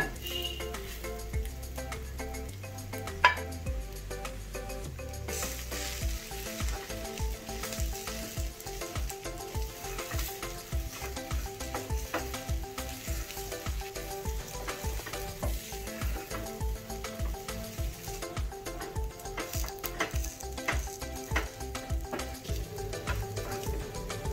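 Boiled potatoes for aloo chop stirred into fried spices in a pan, giving a steady close sizzle with soft rhythmic scraping and stirring throughout, no talking.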